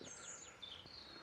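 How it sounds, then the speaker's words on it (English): Small birds sing in a sheltered woodland, their thin high chirps and sweeping whistles soft and at some distance over quiet outdoor background noise. "It's the bestest sound in the world, isn't it? Bird song."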